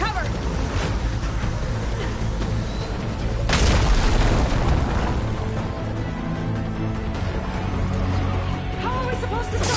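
Heavy booming blast fire from a hovering enemy machine in Horizon, a loud burst rising in the middle over a constant rumbling game soundscape with music, later tailing into layered tonal sound.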